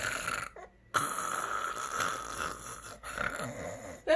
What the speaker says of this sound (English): That's you snoring.